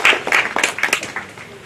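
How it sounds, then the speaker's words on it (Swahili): A small group at a memorial celebration gives a short burst of clapping. The claps are individually distinct, loud at first and fading within under two seconds. "Makofi"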